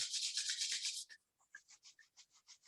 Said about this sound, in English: And then rub your hand together.